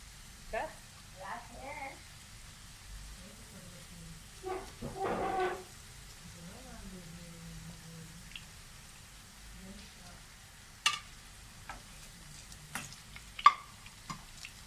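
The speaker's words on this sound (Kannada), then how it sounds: "ಇದು ಲಾಸ್ಟು ನೋಡಿ, ಎಲ್ಲ ಫ್ರೈ ಮಾಡ್ಕೊಂಡು ತೆಗೆದಿಟ್ಕೊಂಡಿದ್ದೀನಿ" Bitter gourd (karela) pakoda frying in hot oil, with a faint, intermittent sizzle and stirring clatter under a person talking, with a few sharper utensil taps toward the end.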